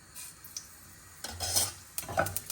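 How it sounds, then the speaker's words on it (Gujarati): Cumin seeds, red chilli and bay leaf sizzling in a little hot oil, a faint sputter that grows busier with a few metallic clinks of a spoon against the pan, close up and without speech. "હવે એમાં નાખી દઈશું થોડું જીરું"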